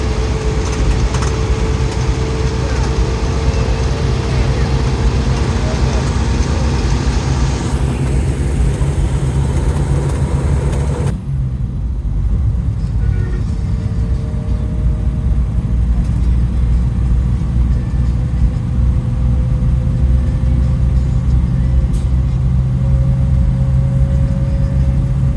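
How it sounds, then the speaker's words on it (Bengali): Steady loud engine drone and road rumble inside a sleeper coach on a highway, continuous throughout with a sudden drop in high hiss partway, no talking. "আপনার ইঞ্জিনের শব্দ শুনতে পারেন এখানে কি পরিমাণ শব্দ হচ্ছে"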